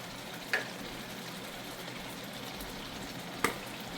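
Ginger, garlic, bell pepper and curry powder for a stew sizzle steadily in a pot with a soft, constant crackle, broken by two brief clinks of a utensil.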